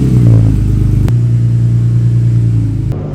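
BMW E36 on new KW Clubsport coilovers driving off, a loud steady low engine rumble close by with a brief knock partway through and no talk.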